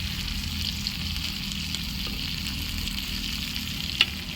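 Kanangeluthi fish fry in a pan with a steady, dense sizzle and crackle of hot oil, with a few faint clinks over the constant frying noise.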